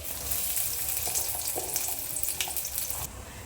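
Chopped garlic and onion sizzle in a hot pan with a bright, steady frying hiss, broken by a few soft stirring scrapes, close and continuous, then easing slightly near the end.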